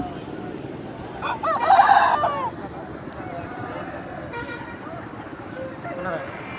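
Rooster at the Nallapadu fowl market crows once, a loud drawn-out call rising over a crowded background murmur, with people talking around it.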